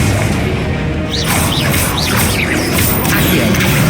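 A Confringo blasting spell in the Hogwarts Legacy video game goes off in a dense, loud boss battle, with whooshing impacts and crashes layered over continuous game noise.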